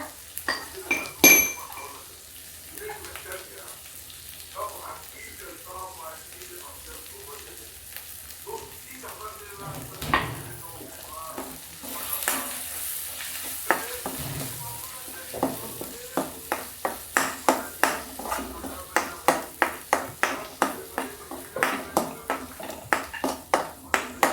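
Ginger garlic paste sizzles in a hot pan while a spoon stirs and scrapes, with clinks building into a quick regular rhythm of strokes against the metal toward the end, close and moderately loud.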